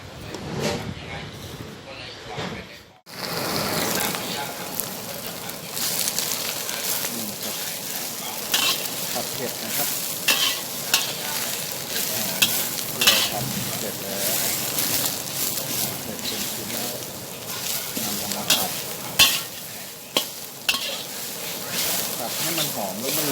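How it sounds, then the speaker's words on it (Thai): Fish maw stir-fries in hot oil over low heat in a Chinese banquet-style kitchen, a dense continuous sizzle with scraping stirs, and someone talks over the cooking throughout. "เสร็จแล้วเราก็ เอาไปผัดนะครับ ไปผัดหรือทอดให้มันหอมนะครับ"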